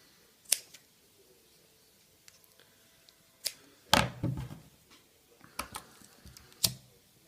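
Paracord for a catapult pull loop snipped with scissors or a blade: a few sharp, isolated clicks and snips spread over several seconds, close and fairly quiet with small handling noises between.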